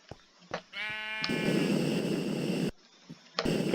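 Sheep bleating in the video game Minecraft, a drawn-out wavering bleat that swells and fills most of the clip, with a few short clicks before it and a brief burst after a pause.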